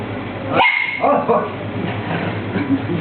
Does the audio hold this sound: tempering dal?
no